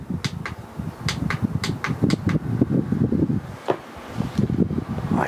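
A rotatable, battery-powered USB mini fan with a 13.5 cm blade blows air, giving a steady breathy whoosh broken by a rhythm of soft clicks and rustles close to the microphone.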